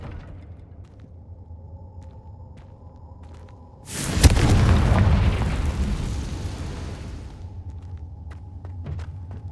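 A Confringo blast spell explodes in Hogwarts Legacy, a sudden loud boom that swells into a rumbling, crackling burst lasting a few seconds before fading back to a quiet game ambience with small ticks.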